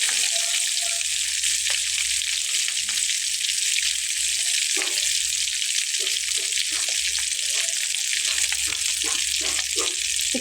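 A steady, close hiss and crackle of oil comes from chicken shami kababs frying in a pan, with small pops and stirring clicks scattered through the continuous sizzle.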